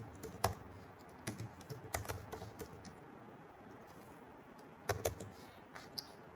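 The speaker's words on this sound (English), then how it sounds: "So if you type in ChatGPT prompt" Keystrokes on a computer keyboard come in short bursts of separate clicks with pauses between them, fairly close and clear, with no talking.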